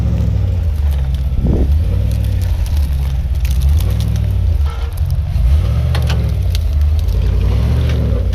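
A Jeep Wrangler JK with an LT 6.2 V8 engine crawls up a rocky ledge, its deep engine rumble steady and close with slow rises in load, plus a brief scrape or knock partway through.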